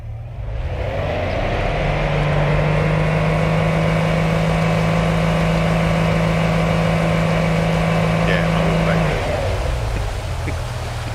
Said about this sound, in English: you've got a big Yamaha outboard engine there on the back of you there